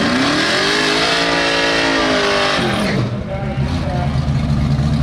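At a Christmas Tree drag race, a car launches hard into a wheelie, its engine screaming and rising in pitch, loud and close, then dropping off with tire and engine noise trailing away.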